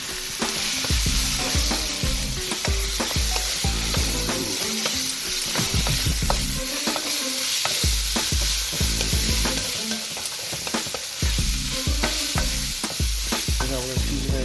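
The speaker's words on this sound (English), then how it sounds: "now in goes your mushrooms" Mushrooms sizzling loudly in a meat sauce for spaghetti, with constant close frying hiss and rhythmic scraping and clacking as a utensil stirs the pan throughout.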